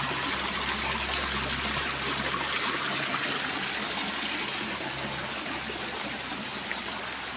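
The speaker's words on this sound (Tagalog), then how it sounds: "ipang salok ng tubig" Steady running water flows throughout, a continuous close trickle with a low hum beneath and no voices, as water is scooped from a well.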